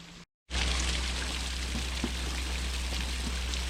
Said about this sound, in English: The water is dribbling down into the fern garden.